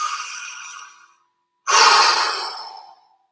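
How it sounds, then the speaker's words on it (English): A person takes a deep, slow breath: a long airy exhale, a short silence, then a loud, full breath right at the microphone. "take a nice big life force breath."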